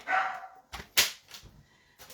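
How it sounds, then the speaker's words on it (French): A dog barks indoors in a few sharp, separate bursts with short pauses between them, fairly close and loud. "tout le monde va entendre le chien"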